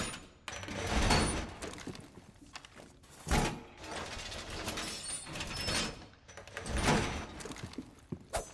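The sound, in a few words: reinforcing a wall in a video game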